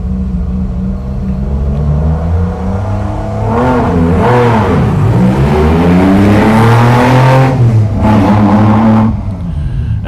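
A race car engine revving loudly at the start line of a Sunday SGORA 200 race, rising and falling through steady close-up revs before pulling away, heard alone with no talk.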